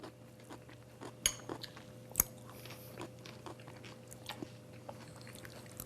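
Close, quiet crunching as someone chews a crisp broccoli salad, with sharp bites and soft irregular munching, plus a faint clink of cutlery.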